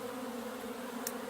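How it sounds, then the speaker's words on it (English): Bees buzz in a dense, steady hum at a hive entrance, close and continuous for a second or so, with no voices. "The bees, their only concern right now is getting in and out of the hive."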